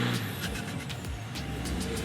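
A stuck truck's engine revs hard as the driver keeps hitting the gas trying to get free, giving a steady, rising and falling roar that fills the brief moment without any voices.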